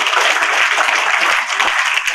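An audience applauds teachers at a gathering in India, producing dense, steady clapping that sounds fairly loud and close and holds evenly across the whole stretch.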